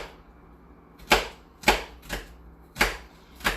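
A knife cuts thin slices of onion on a board, five sharp, separate chops spaced about half a second apart, close and crisp against a quiet kitchen background.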